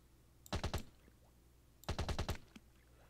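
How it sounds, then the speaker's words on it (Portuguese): Two short bursts of rapid video game machine gun fire, each about four or five shots, loud and punchy, separated by a brief pause. "Mano, eu liberei a metralhadora."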